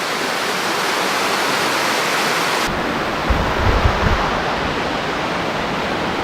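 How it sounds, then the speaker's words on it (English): Na Mueang waterfall in Koh Samui, Thailand, pours in a loud, steady roar heard close up at its base, with a brief rumble of wind or handling noise partway through. "At the base of waterfall number 2."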